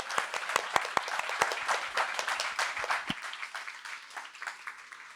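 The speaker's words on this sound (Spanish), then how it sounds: "Un aplauso otra vez a ustedes." An audience at a university talk and fair event gives a round of sharp applause, loud bursts of clapping at first that thin out into scattered claps and fade.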